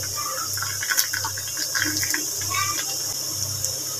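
Water poured into a small bowl for testing jaggery, a steady trickling splash close by with slight surges, heard alone.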